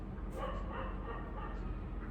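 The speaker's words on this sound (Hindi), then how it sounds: "इतना क्यों भौंक रहे हैं डॉग" Dogs bark and yip repeatedly in Mumbai, sharp calls mixed into a dense, steady wash of background noise for about two seconds.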